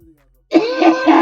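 A single harsh cough, close and loud, following a moment of near silence.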